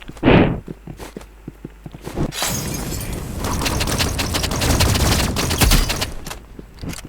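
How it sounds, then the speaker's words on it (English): Energy pistols fire in a video game with rapid, loud bursts. A heavy shot opens the sequence, then scattered clicks and footsteps lead into a dense volley of shots that continues to the end. "I killed him with that. The energy pistols, bro."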